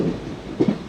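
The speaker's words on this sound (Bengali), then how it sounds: "আমাদের ট্রেন বাঁ দিকে টার্ন নিয়ে দীঘার লাইন ধরলো" A train on the Digha line rolls along, a low rumbling run with a couple of soft wheel clunks late in the brief moment, fairly faint and steady.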